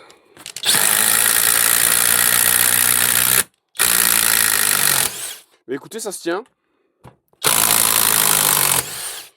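Loud bursts of a Parkside Performance impact driver with an aftermarket control board whirring as screws are driven, separated by short pauses, with a brief spoken remark in between.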